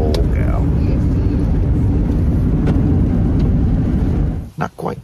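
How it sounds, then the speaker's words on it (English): An old car engine warming up on a cold morning produces a steady low rumble heard from inside the vehicle, fading near the end as brief voices come in. "The old war wagon, she don't warm up quite as quick as the Acura does."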